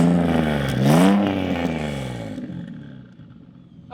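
A car engine with a blown, damaged turbo revs hard once, its pitch sweeping up then falling back, loud and close, before settling into a rough, uneven idle.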